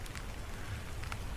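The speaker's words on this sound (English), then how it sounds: "we got us pretty good rain here" Rain falls under a bare Texas mesquite tree, a steady dense hiss of drops with a couple of faint brighter patters, continuous and soft.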